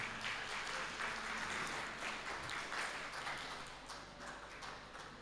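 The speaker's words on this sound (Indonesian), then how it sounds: "Tepuk tangan untuk wanita Indonesia" Sustained applause from an audience at an Indonesian youth talk on stunting prevention and nutrition, a dense steady wash of clapping held at even loudness for the whole stretch.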